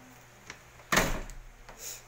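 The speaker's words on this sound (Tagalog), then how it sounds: "Bukas ang pinto." A door is opened at home with a single sharp rattling clunk near the middle, followed by faint shuffling in a quiet room.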